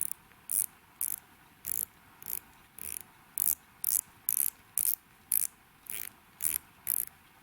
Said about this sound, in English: We can rotate the bezel on both sides, and it really has got some nice sound effect.